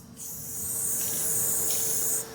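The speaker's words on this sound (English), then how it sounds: "just spray it in the air over top of them" A close, steady hiss of an aerosol can of spray adhesive spraying into the air over yellow jackets in one continuous burst for about two seconds, then stopping abruptly.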